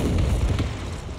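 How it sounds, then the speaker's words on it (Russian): A supply depot explodes in the video game Men of War II, a dense rumbling boom with crackling debris, loud and close, for about a second. "Это склад снабжения взрывается."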